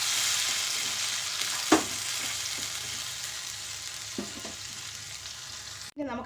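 Ground coriander leaf and chili paste hits a hot pan and sizzles steadily, with a few sharp spatters and stirring clinks over the continuous frying hiss.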